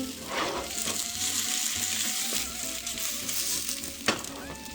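Hash browns frying in oil in a pan, a loud, close, continuous sizzle with a brief clatter near the end and no talking.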